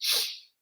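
A single sharp sneeze, close and loud, a bright hissing burst that fades out within half a second into silence.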